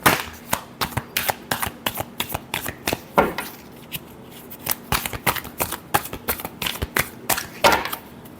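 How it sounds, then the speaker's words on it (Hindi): Tarot cards are shuffled by hand in a long run of crisp, rapid riffles and slaps, close and clear, repeating in quick bursts with brief pauses between. "last shuffle"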